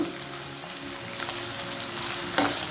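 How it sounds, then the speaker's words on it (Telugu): Onions, green chillies and curry leaves fry in hot oil, a steady close sizzle with crackling pops throughout, stirred now and then, with a louder burst near the end and no one talking. "ఉల్లిపాయలు, పచ్చిమిర్చి కూడా వేసేసుకుందాం"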